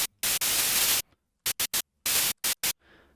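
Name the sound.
psytrance snare with Sytrus wave shaping distortion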